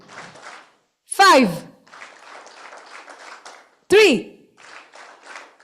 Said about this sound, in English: Whichever number I say, I need to hear that number of claps.